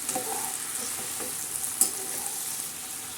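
Methi and potato sabzi sizzling in a hot pan while being stirred, a steady soft frying hiss with scraping strokes of a spoon and one sharper clink against the pan, no talking.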